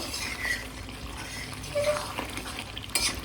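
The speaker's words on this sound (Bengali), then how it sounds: "একটু আঁচটা বাড়িয়ে ভালো করে কষিয়ে নিতে হবে" Mutton is stir-fried in a pot over raised heat, with soft sizzling and scraping of a spoon stirring the meat, and a few sharper clinks of metal on the pan.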